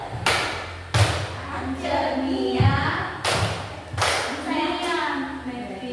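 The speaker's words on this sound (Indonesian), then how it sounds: "Nah, langsung tepuk-tepuk." Children in a classroom concentration game clap their hands in a few loud, spaced bursts, with voices speaking between the claps.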